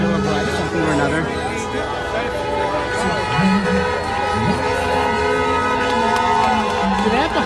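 Vehicle horns honk repeatedly at an outdoor political rally, blaring across a busy, noisy crowd and street traffic while people talk nearby throughout.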